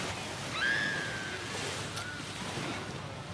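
Beach ambience with surf and wind: a steady, full roar of waves and gusty wind buffeting the microphone, continuous and close, with no clear talking.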